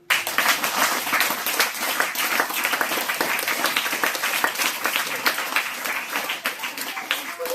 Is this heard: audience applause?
yes